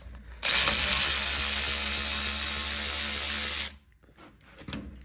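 Ratchet wrench working 12mm bolts on a Jeep YJ steering assembly, a loud sustained buzzing ratchet run of about three seconds followed by a few faint metallic clicks and handling noises.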